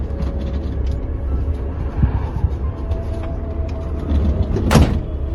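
A minibus sliding door is slammed shut once, a loud bang near the end, over the steady rumble of the idling vehicle and faint background noise.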